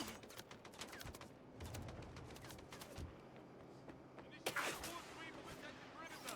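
Quiet rapid volleys of gunfire from several weapons firing together in the video game Mindseye, crackling in quick succession with a sharper burst near the end.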